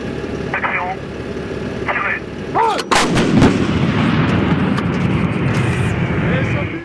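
A French Caesar howitzer fires a single loud, sharp artillery blast, followed by a rumbling echo and low engine drone, with a voice talking underneath.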